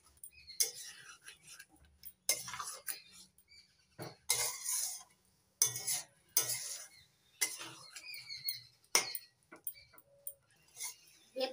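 A spoon stirs betoshak egg curry in a pan, giving quiet, intermittent scraping and clinking strokes in short bursts about a second apart, close by with no talking.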